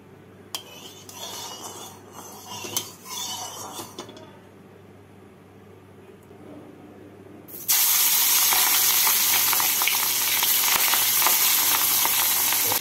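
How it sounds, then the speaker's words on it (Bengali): Tangra fish drop into hot mustard oil in a kadai after a stretch of metal clatter, and a loud, sudden, continuous frying roar sets in and holds steady to the end. "তেলটাকে ভালো করে গরম করে নিয়ে এর মধ্যে মাছগুলোকে হালকা করে ভেজে তুলে নেব।"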